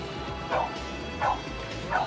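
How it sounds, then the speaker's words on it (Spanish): Three short barks from a fire brigade search-and-rescue dog, spaced evenly apart, somewhat distant, over a steady background hum at an outdoor fair in Valencia. "si nosotros a distancia escuchamos a nuestro perro ladrar"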